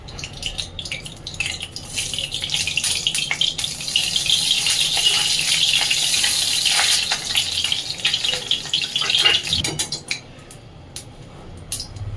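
Oil is added to a hot pan for a thin hilsa fish broth. A sustained crackling sizzle fills most of the clip alongside scattered metallic clinks of a utensil against the pan, close and fairly loud, easing off toward the end, with no talking.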